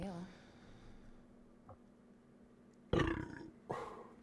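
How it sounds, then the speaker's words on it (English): A man lets out a short, gruff belch while watching a PlayStation 5 showcase, a faint burst, then a louder one a moment later in a quiet room. "Little belch there."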